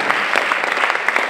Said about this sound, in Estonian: Veel kord aplaus!